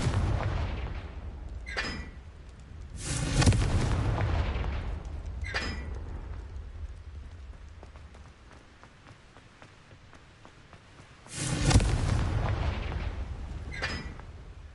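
Confringo spell explosions in a Hogwarts video game, two heavy booming blasts several seconds apart, each with sharp cracks and a rumbling tail, over low background noise.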